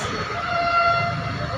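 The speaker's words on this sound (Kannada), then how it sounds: "trail train is coming" A metro train on Bengaluru's RV Road to Bommasandra line pulls in with a steady, fairly loud rumble and a sustained high tonal whine, running through the short stretch without talk.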